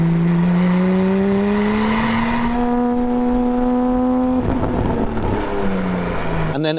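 A Porsche Spyder flat-six fitted with a new exhaust revs up close and loud, its tone climbing in a steady rising howl, holding high, then settling back down, with no voices.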